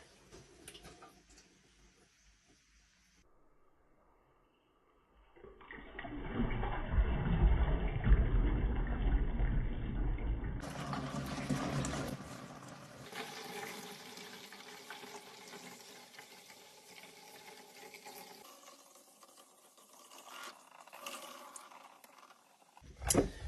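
Collected dehumidifier water poured from a tank into a jerrycan, a loud continuous splashing gush lasting several seconds, then a quieter trickling flow that tapers off, with no talking.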